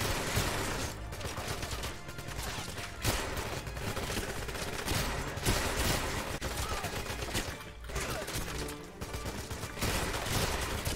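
Spaz 12 shotgun fire in the video game 007 Legends, dense loud blasts and rapid gunfire filling a busy, continuous battle soundscape with only brief dips between volleys.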